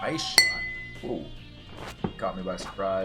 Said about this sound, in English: I hit my off-screen fog machine against Mike's glass.